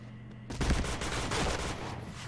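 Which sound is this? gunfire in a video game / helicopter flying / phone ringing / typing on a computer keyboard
gunfire in a video game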